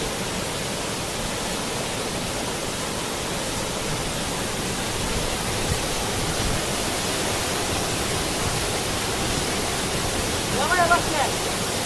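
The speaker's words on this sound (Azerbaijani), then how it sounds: "bura Amanverə şəlaləsi." Amanvera waterfall in the Zaqatala mountains gives off a constant broad rushing roar of falling water, even and unbroken from start to finish.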